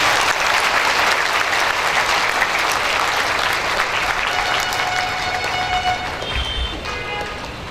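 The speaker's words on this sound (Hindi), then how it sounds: "जोरदार तालियां बजा देंगे।" Loud, sustained audience applause fills a hall at a Brahma Kumaris stress-relief session in Munger, Bihar, a dense continuous clapping that holds steady throughout and thins slightly near the end.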